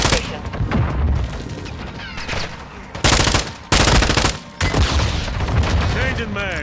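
Automatic gunfire in a Call of Duty game, heavy sustained machine-gun bursts with loud blasts that surge around the middle, voices and battle noise layered throughout.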